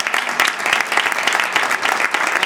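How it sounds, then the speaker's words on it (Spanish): An audience at a cultural gathering in Montijo, 2025, claps warmly, a dense burst of steady applause filling the room for a couple of seconds. "Le damos un fuerte aplauso."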